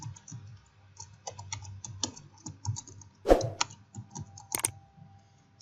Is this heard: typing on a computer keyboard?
yes